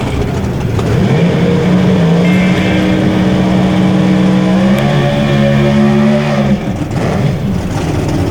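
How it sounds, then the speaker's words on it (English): A small block dragster chases a small block Cobalt down a drag strip, engines roaring loud and sustained with rising, shifting pitch as they pull away, then the noise drops off abruptly as the throttle is lifted. "Small block dragster trying to track down the small block Cobalt"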